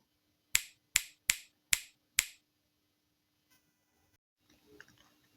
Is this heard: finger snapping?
yes